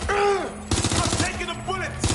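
Rapid bursts of gunfire hitting the player in a PS4 action game, loud and close, mixed with a pained groan and game sounds over about two seconds.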